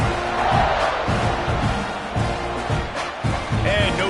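College football stadium crowd at a Florida versus Texas A&M game, a loud continuous roar of cheering that swells in waves around a kickoff, with pulsing low rumble throughout.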